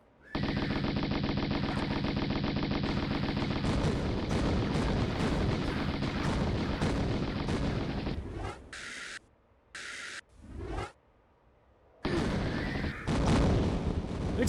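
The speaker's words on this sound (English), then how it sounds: "Exploding centaur!" A centaur enemy exploding in the Tomb Raider video game amid a long burst of rapid Uzi gunfire, loud and dense, then broken blasts and bursts trailing off with gaps of quiet.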